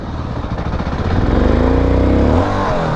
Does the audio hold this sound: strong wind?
no